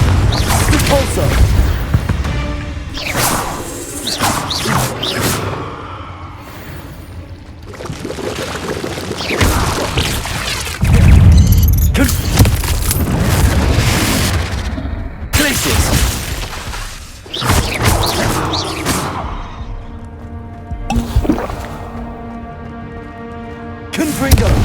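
Spell blasts in Hogwarts Legacy, a run of loud magical bursts, crackling booms and shattering impacts arriving one after another over a rumbling game soundscape, with a voice calling out the spell names between them.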